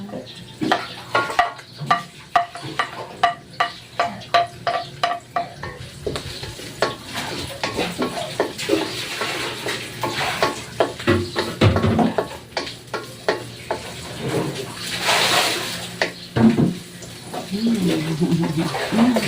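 Garlic sizzles in a pan for beef kaldereta while a utensil stirs and scrapes in quick, uneven strokes. The frying sound is close and busy, with some louder clatters near the end.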